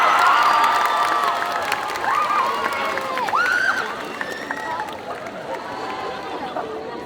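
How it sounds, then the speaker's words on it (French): Crowd at a cosplay contest cheering, shouting and applauding for a solo contestant, loud whoops and screams over clapping that gradually tapers off. "je vous demande un tonnerre d'applaudissements pour Alicia, qui cosplay Mira Jane de Fairy Tail"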